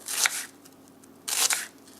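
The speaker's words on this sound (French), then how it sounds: "Donc vous coupez l'oignon bien fin." Two short bursts of crisp crunching as a knife finely slices onion, separated by a pause. The sound is close and clear, with no voices.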